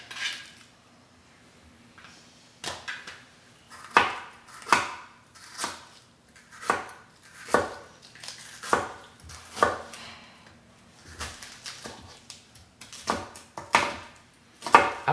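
Onion chopped with a knife on a board while cooking oyakodon: a series of close, distinct thuds and chops at an uneven rhythm, some quick doubles, with quiet pauses between and no talking.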